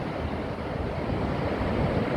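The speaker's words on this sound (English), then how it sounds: "when the waves hit that little corner down there, they really blow up" Ocean waves surge and burst against a small rocky corner of the shoreline, a loud, continuous roaring wash of surf with heavy wind buffeting the microphone.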